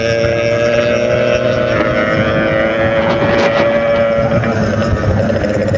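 RX King motorcycle riding along a road in Lampung Utara, with a continuous loud engine drone and heavy wind buffeting on the microphone, no talking.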